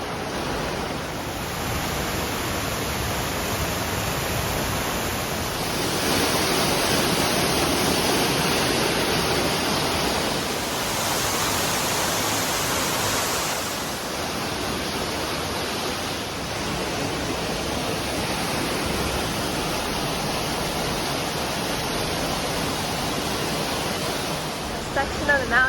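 A waterfall and rushing creek roar steadily through a tall-walled gorge beside a boardwalk, a dense continuous wash that swells slightly midway and holds loud throughout.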